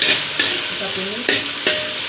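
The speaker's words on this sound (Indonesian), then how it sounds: "Kita tumis." Red and green chili with tomato sautéing in a pan: a sizzle under sharp scrapes and clacks of a spatula stirring, with a few distinct strokes spaced irregularly, close and fairly loud.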